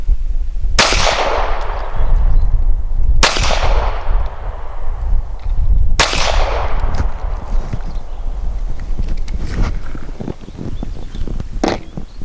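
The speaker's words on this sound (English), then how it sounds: "Now I'm going to be shooting the Legend Pro Copper Hollow Point" A Sig P365 pistol firing 115 grain Legend Pro copper hollow point rounds, three loud, sharp close-range shots spaced a few seconds apart, each with a short ringing decay, followed by fainter handling noise.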